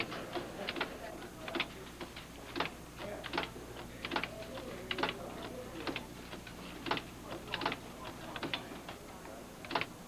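Keys clack on a 1980-era computer keyboard in an irregular rhythm of sharp taps, fairly quiet and close, with a low steady hum underneath and no talking.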